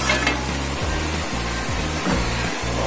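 Butter sizzles steadily on a hot pan as it is spread for burger and pizza prep in a hotel kitchen, with a rhythmic scraping stir over a continuous low frying hiss.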